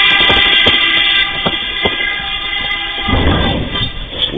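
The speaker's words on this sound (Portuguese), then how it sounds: "o condutor do trem acionou a buzina" A train horn blares at a level crossing, one long steady blast with sharp clanks and knocks under it, then fading into rumbling railway noise near the end.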